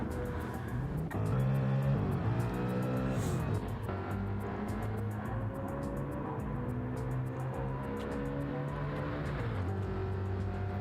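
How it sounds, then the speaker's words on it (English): Mustang race car engine on the track at Autodromo Nazionale Monza, a loud sustained harmonic roar that rises and falls through gear changes, heard throughout without talk. "Oh, the sound of that Mustang, I'll tell you what."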